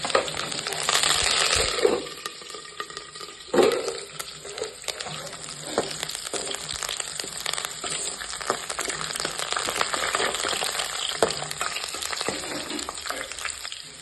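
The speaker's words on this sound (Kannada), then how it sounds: "ಮೆಣಸಿನ್ಕಾಯಿ ಕರಿಬೇವು ಎಲ್ಲ ಇಷ್ಟು ಫ್ರೈ ಆದ್ರೆ ಸಾಕ್ರಿ" Green chillies and curry leaves fry in hot oil for gobi fry with a loud, continuous close sizzle, broken by a few sharp pops and spatula scrapes.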